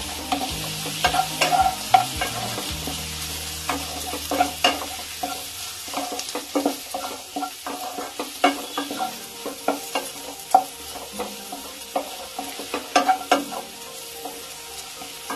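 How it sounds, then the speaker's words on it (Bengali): Spices and potatoes being stir-fried in hot oil for Bengali bhetki fish curry, a steady close sizzle with repeated rhythmic scrapes and knocks of a spatula against the pan. "সব উপকরণগুলোর সঙ্গে ভালো করে কষে নেব।"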